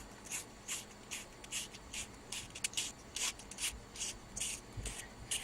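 Blue Paplin paper strip rubbed and rolled into a tight coil on a quilling tool, a soft papery scratching in quick repeated strokes, close and quiet.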